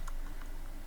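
Keys on a computer keyboard are tapped in a brief, quiet burst of a few soft clicks while someone codes in Python.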